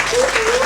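Brief burst of audience applause at a hypnosis stage show, a dense wash of clapping with a faint voice tone running underneath.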